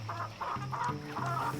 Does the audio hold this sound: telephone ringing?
no